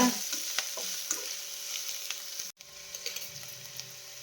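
Onions frying in a pan with turmeric powder during benne dosa preparation, a soft close sizzle with scraping stirs and light clatters, fairly quiet, with a brief dropout midway.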